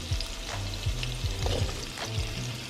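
Potatoes being fried in a pan for smothered fried potatoes, with a steady close sizzle and a few scraping stirs or clatters over the hiss, no talking.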